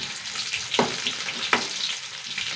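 Curry leaves frying in oil in a pan, a gentle continuous sizzle with a couple of sharper crackling bursts, close and fairly quiet with no voices.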